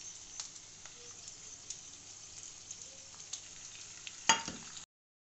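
Mutton cooks in a pan with a soft, steady sizzle, then whisked yogurt goes in with a brief louder splash and clatter near the end. The sound is close but quiet, and nobody speaks.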